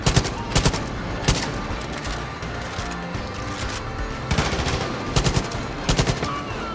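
Gunfire in Far Cry 5 during a campaign firefight, with repeated bursts of automatic shots coming in rapid clusters, loud and close, over a constant rumble of combat with no speech.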